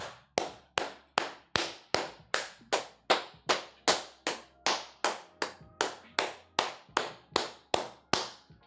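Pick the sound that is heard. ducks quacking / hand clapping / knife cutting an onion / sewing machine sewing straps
hand clapping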